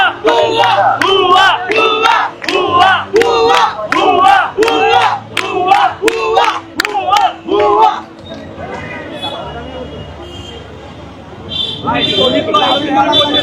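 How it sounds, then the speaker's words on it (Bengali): Students protesting outside Dhaka City College chant a rhythmic two-beat slogan in unison, loud and close, with a dense crowd roar; the chanting stops around eight seconds into murmuring babble before voices rise again. "শিক্ষার্থীরা ভুয়া ভুয়া স্লোগান দিচ্ছেন"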